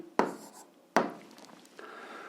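Pen or pencil writing math on paper during an algebra exercise, heard as two sharp nearby scratching strokes followed by a softer, steadier scrawl, with no talking.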